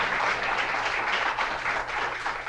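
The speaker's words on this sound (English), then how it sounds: "we should give her a round of applause" An audience at an English department awards night applauds an absent thesis winner, a steady, moderately loud wash of clapping throughout.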